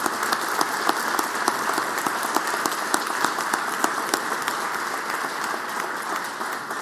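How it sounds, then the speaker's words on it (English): Steady applause fills the Mississippi Senate chamber for a young head drum major, dense clapping with sharp individual claps standing out, sustained and fairly loud throughout without speech. "Can we please give this young man a round of applause?"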